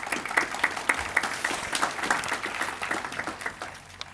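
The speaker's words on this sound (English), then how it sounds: "Give them a big round of applause." Applause from an outdoor Memorial Day ceremony crowd at Fort Custer, a steady patter of many hands clapping at moderate distance that gradually tapers off.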